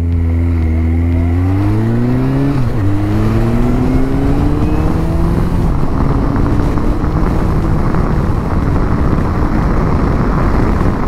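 A Suzuki Bandit motorcycle engine pulling hard at highway speed around 70 mph, its loud droning tone climbing steadily through the revs, then holding under heavy wind roar, continuous and close.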